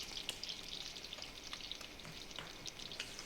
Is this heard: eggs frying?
yes